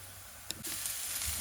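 Shredded banana flower is dropped onto browned onions in a hot pan, and a soft sizzle with a brief clatter rises into a steady, quiet frying hiss.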